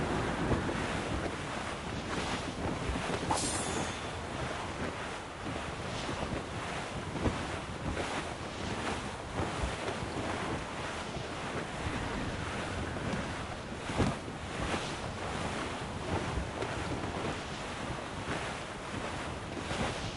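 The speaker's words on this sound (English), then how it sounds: "We're bearing down on those rocks, Captain. This gale's got teeth, Captain." Stormy gale wind howls over crashing sea waves around a sailing ship in the video game Assassin's Creed Rogue, a dense, continuous roar of surf and gusts with occasional louder swells, no voices.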